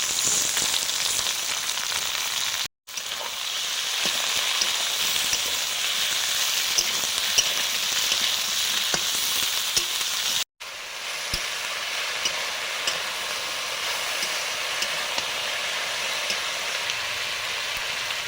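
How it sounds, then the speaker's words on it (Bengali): Brinjal, red spinach and potato fry in a pan with a steady, dense sizzle that runs loud and close throughout. The sizzling breaks off twice for a moment, with occasional stirring clicks and no voices. "এবারে সবজিগুলো দিয়ে দিচ্ছি। বেগুন বেশি, লাল শাক আছে আর আলু।"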